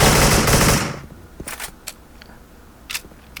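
Gunfire in a shooter video game, a loud dense burst of automatic fire followed by a few sharp, scattered single shots and clicks with quiet gaps between them.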